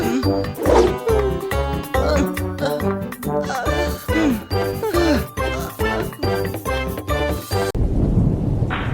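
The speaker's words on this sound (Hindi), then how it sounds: "तूफान आने वाला है" A thunderstorm with thunder and rain in a Bhoot Boss cartoon episode, rumbling under loud rhythmic music throughout, with a burst of hissing rain and thunder near the end.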